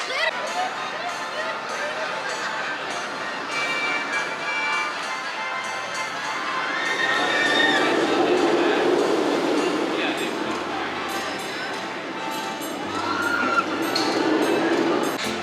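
Riding the Loch Ness Monster roller coaster at Busch Gardens Williamsburg: a steady rumbling roar of the train on the track with rattles and clinks, while a rider talks over it.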